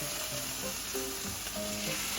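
Sauce poured into a hot pan sizzles and spatters in a loud, continuous fry with light stirring, close by, with no talking.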